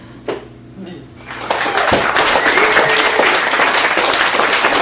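An audience at a poetry open mic in a Chicago cafe gallery breaks into applause after a couple of bumps and a quiet moment, the clapping swelling to a steady, dense wash that continues to the end.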